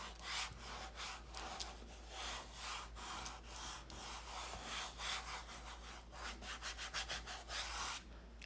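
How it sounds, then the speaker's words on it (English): Fingers rubbing water into a mixed media canvas produce a quiet, close scratchy rubbing in rapid repeated strokes, speeding up toward the end, with no talking. "And then I will rub my fingers through it, because this is part of the encoding of the canvas."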